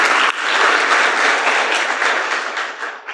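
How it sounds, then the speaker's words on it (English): A large summit audience in Southeast Asia applauds steadily, a dense, sustained wash of clapping that holds loud from start to finish before tapering slightly at the end. "Let's give another round of applause for that opening message"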